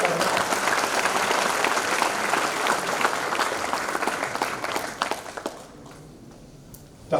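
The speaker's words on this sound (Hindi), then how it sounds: "फैकल्टी मेंबर की ताली अच्छी बढ़नी चाहिए" An audience at an MBBS Hindi textbook distribution ceremony breaks into sustained, close applause for the faculty members, the clapping thinning and fading to a quiet room near the end.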